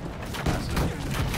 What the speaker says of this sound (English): they got a cannon in the main gate on this spot